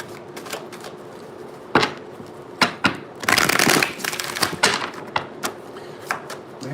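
A deck of tarot cards is riffled and shuffled in several brisk bursts, one longer flurry in the middle, close and crisp with short pauses between.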